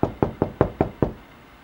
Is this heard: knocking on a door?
yes